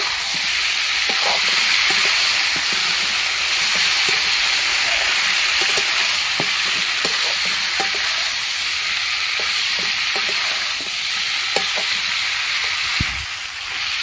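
Cumin and ginger paste with spices sautéing in a pan, a loud continuous sizzle and hiss with frequent small crackles and stirring clicks throughout, one heavier knock near the end.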